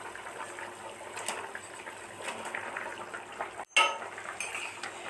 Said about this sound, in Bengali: এখন মাছগুলো দিয়ে দিলাম।